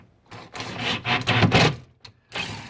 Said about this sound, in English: And then we'll just pre-drill